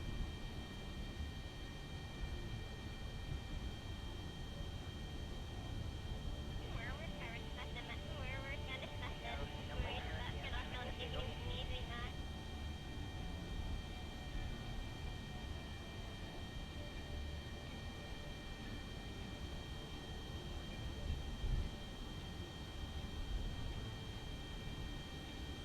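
Aircraft cruising in Kerbal Space Program, a steady droning engine hum under continuous low noise throughout, with a short burst of faint chirping tones partway through.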